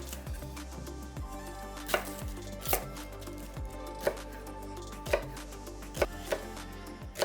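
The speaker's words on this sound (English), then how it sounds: "We have 1 medium onion chopped." A knife chops a medium onion on a cutting board, sharp distinct thuds landing in an uneven rhythm about once a second, close and clear over a faint background hum, with no talking.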